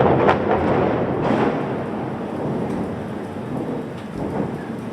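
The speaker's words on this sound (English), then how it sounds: "Getting some great thunder and lightning." A thunderstorm in Japan: steady heavy rain hisses throughout while rolling thunder rumbles near and loud, swelling in several booms across the few seconds.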